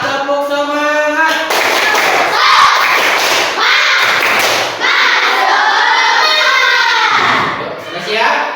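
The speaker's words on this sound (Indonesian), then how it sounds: "Kurang semangat, tepuk semangat." Schoolchildren in a classroom clap in a quick rhythmic spirit-clap pattern, loud and close, mixed with children's voices and shouting throughout.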